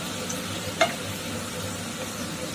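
Nuts fry in a few spoons of ghee in a pan while pumpkin halwa is being made, giving a steady, soft sizzle with one brief click partway through.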